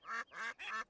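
Cartoon ducks on a railway track let out three quick, nasal quacks in a row, close and clear against a quiet background.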